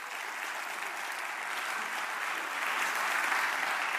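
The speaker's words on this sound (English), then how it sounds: "Please give them a round of applause." Steady, even applause from a conference audience at a welcome session, a continuous dense patter of many hands heard at a moderate distance, swelling slightly toward the end with no talking over it.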